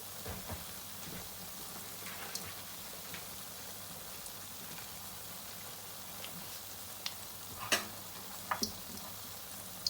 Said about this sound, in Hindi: गोल्डन ब्राउन होने तक हम लोग इसको दरमियानी आंच पर ही फ्राई करेंगे, बहुत तेज़ आंच पर फ्राई नहीं करेंगे